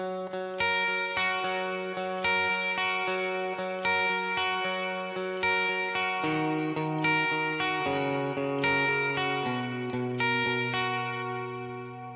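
Guitar slowly arpeggiates the verse chords of a worship song, single notes picked one after another in an even pulse, ringing together as the bass moves down, alone and moderately quiet.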